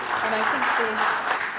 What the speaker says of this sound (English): big round of applause to all our panelists, please